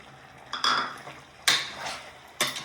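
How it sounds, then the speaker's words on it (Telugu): Spoon scraping through chicken curry in a pan, three distinct clattering strokes spaced about a second apart, fairly close and moderately loud with a faint background hiss between them. "మధ్య మధ్యలో ఇలా కలుపుకోవాలి"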